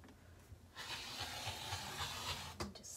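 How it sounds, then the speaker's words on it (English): A rotary cutter slices through fabric trimmed for a shirt extender, a soft continuous hiss of the blade rolling across cloth, faint and close, ending with a couple of light taps. "And I got my rotary cutter."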